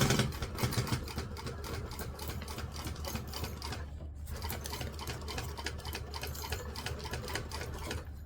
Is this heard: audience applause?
no